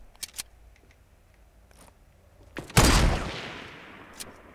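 A thermal rifle fires in Fortnite: a few sharp clicks come first, then one loud close blast that decays slowly into a fading tail, with no talking.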